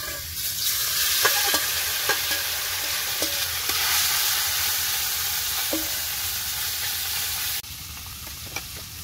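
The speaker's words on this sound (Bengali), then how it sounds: "এখনো মাছ ভাজতে একটু দেরি হবে" Fish frying in a pan, giving a loud, continuous hissing sizzle up close with occasional small pops and stirring clicks, easing slightly near the end, with no voices.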